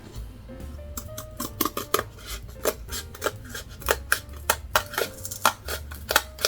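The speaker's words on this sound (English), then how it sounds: "This is me just cutting out the extra pieces so I can see my work." Scissors snip through folded cardboard in a quick, steady run of sharp close-up cuts, each crisp snap following the last with short pauses, with no talking.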